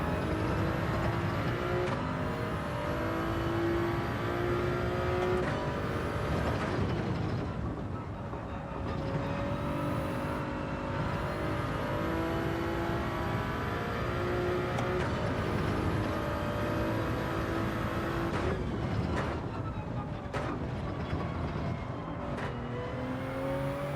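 Race car engine in Gran Turismo 7 droning and revving through gear changes, steady loud whine rising and falling over laps with brief drops between shifts, no voices.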